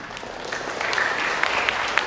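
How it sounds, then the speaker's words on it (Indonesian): A crowd at a government family-planning event on stunting in Jember applauds a speaker, a soft, diffuse wash of clapping with a few sharper claps standing out. "Tepuk tangan untuk beliau."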